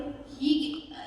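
A student's voice imitates crows cawing in a short, harsh nasal call, swelling in the middle and fading out, close and fairly quiet.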